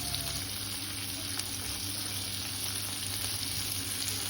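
Pomfret fish frying in a pan with chillies, a steady, even sizzle of hot oil that runs unbroken and fairly close throughout, with no talking.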